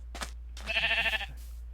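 A sheep in the Minecraft video game gives a single short bleat, clear and close, preceded by a couple of soft thuds, with no speech over it.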